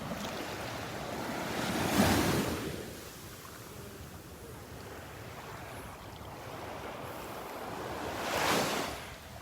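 Gulf of Mexico surf at Delnor-Wiggins beach on a morning walk: two broad waves break and wash in several seconds apart over constant wind and rushing water, moderately loud with no talk.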